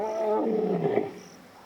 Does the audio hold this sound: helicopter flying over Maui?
no